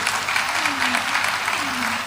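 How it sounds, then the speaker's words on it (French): Audience applause for children at a town New Year's greetings ceremony in Dourges, steady and sustained across the whole stretch, with a voice speaking over it. "on peut les applaudir encore très très fort."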